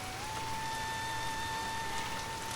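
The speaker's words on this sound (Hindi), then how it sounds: "लौटते समय बारिश फिर तेज हो गई" Heavy rain falls in a steady, even hiss with no break, moderately loud and unaccompanied by voices, carrying a faint tonal hum underneath.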